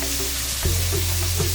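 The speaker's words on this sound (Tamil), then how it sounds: "நம்ம வெங்காயம் இங்கே போட்டிருக்கோம். வெங்காயம் வெந்துட்டு இருக்கட்டும்." Onions fry in a pan with a steady, even sizzle close by, accompanied by a low background hum and a light clunk partway through.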